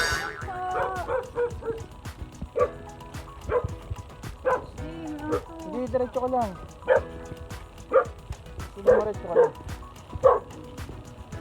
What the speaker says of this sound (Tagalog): Tinatawal kami ng aso.